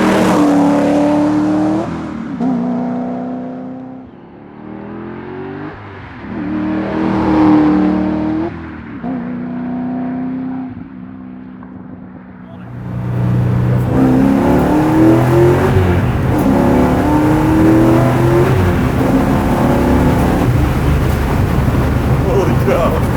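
A track-prepped 650 hp C6 Corvette Z06 accelerates hard, its engine note climbing in repeated rising pulls through the gears, loud and close, with steady wind rush growing stronger in the second half.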